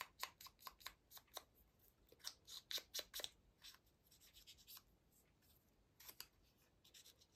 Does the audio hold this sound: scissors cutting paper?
yes